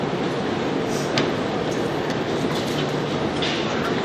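A train rumbles loudly through Novokuznetskaya metro station in Moscow, steady roaring noise with faint metallic clacks and squeals.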